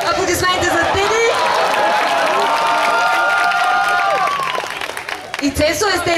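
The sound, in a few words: audience applause and cheering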